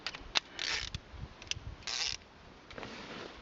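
A 3/8 inch drive ratchet works on a Land Rover Freelander 2 brake assembly. It gives short bursts of close, dry clicking and whirring, separated by quieter pauses.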